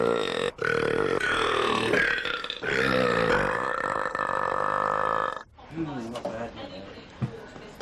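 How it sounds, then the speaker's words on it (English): An extremely loud, ear-shattering human belch, long and sustained with a strong droning tone, sounding alone and close, followed by a shorter, quieter gurgling burp. "His belches are as loud as an aircraft taking off."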